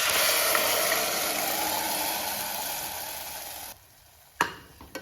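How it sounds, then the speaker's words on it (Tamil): Coconut pieces frying and being stirred in hot oil for Kerala kalathappam: a loud, dense sizzle fills the first few seconds, then cuts off abruptly, followed by a couple of sharp utensil knocks. "இது லைட்டாக அப்படியே ஒரு கிண்ட கிண்டி விட்டு ஊற்றியாச்சு"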